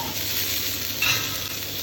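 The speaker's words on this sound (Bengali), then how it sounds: "ফ্রাই প্যান গরম হয়ে গেছে সানফ্লাওয়ার দিচ্ছি জিরে পড়ুন এই যে ফুলকপিগুলো দিচ্ছি আগে আলুগুলো দিয়ে দিচ্ছি" Potato and cauliflower pieces frying in hot sunflower oil with cumin seeds in a frying pan, giving a steady close sizzle with a brief louder crackle burst partway through, no talking.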